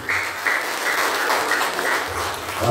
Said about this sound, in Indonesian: Tepuk tangan buat Pak Haji